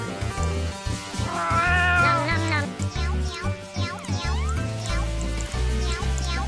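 Cats meowing in the Roblox game Raise a Floppa 2, several game-sound meows rising and falling over busy background music, loud and continuous.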